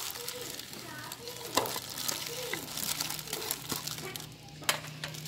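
Carrot and chives being tossed and stirred into napa cabbage kimchi by hand, a soft steady rustle and crinkle of mixing close by, with a few sharper handling knocks and a low background hum.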